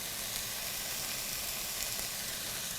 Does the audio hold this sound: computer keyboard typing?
no